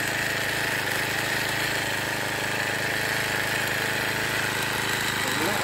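A PCW3000 portable forestry winch's small engine runs continuously close by, a loud, steady, buzzing drone holding at one pitch without pause.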